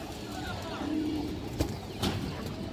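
A pigeon gives a soft, low coo close by, with a couple of brief sharper sounds over a steady background hiss.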